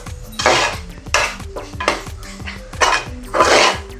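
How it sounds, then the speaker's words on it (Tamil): Rice and soya beans being mixed with salt for biryani in a metal vessel, giving repeated scraping and clattering strokes of a spoon against the pot, close and fairly loud in rhythmic bursts. "உப்பு போட்டு நல்லா மிக்ஸ் பண்ணியாச்சு"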